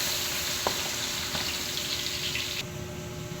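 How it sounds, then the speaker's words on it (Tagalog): Garlic sizzles steadily in a pan with toasted pork, a continuous hiss of frying with a faint stir partway through and no voices. "Magsisimula na tayo sa pagigisa. Unahin na natin itong bawang."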